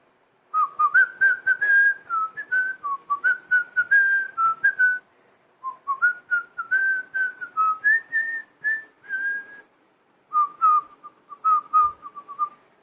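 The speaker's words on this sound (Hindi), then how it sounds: "सीटी बजा रहे हो, सीटी" Students whistle in a classroom during a chemistry lesson, producing a long run of clear, tuneful whistled notes in bursts and phrases with short pauses between them, fairly loud and close, with no talking.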